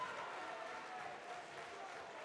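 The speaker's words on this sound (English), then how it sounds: "please keep the applause going for silver medalist Ayman Amish" Steady applause from the crowd at the Scottish Elite Boxing Championships finals, a soft, even patter of clapping that sounds somewhat distant and carries on without a break.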